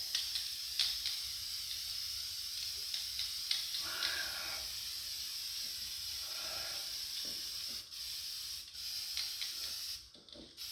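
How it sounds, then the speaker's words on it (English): Aerosol spray can coating an engine cylinder head during an engine build, a steady soft hiss in several bursts with short pauses between passes, close and fairly quiet. "I'm gonna spray a little bit where my fingers touched here."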